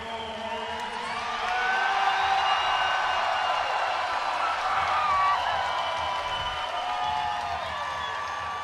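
Arena crowd at an NCAA men's volleyball semifinal between Hawaii and Ball State cheers and applauds for the event's master of ceremonies, a steady, loud, diffuse roar with whistles and shouts that swells midway and holds.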